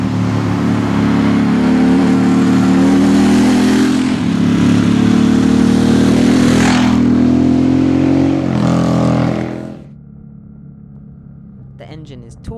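Harley-Davidson Sportster S motorcycle engine droning loudly and steadily while riding, rising slightly in pitch around the midpoint, then dropping sharply to a low idle near the end.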